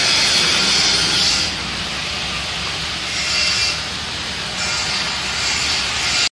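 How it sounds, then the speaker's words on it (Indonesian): Idle of a 2014 Toyota Vios third generation with its 1NZ-FE engine fitted with a racing exhaust muffler and racing camshaft, a steady loud hissing rumble that swells and dips slightly over a few seconds, with no talking. "Kita denger gimana idle-nya kalau udah diganti knalpot."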